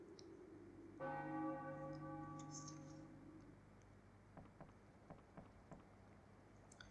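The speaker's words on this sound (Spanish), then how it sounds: "Cuando esta campana suene tres veces," Church bell tolling in the Final Fantasy IX video game at Alexandria castle: a loud resonant strike near the one-second mark with a long ringing decay, then faint ticking and tapping behind it.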